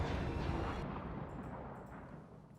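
Cannon shots and explosions from a Cossack-era strategy video game, a single heavy boom that rolls and decays over a couple of seconds, loud and alone with no talk.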